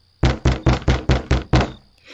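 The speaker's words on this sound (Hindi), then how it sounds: "तब वो जोर जोर से दरवाज़ा पीटने लगे" Heavy fists pound on an apartment door, seven loud, evenly spaced booming knocks in rapid succession, close and forceful, with no talking.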